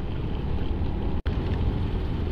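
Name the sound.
heavy rain while riding a motorcycle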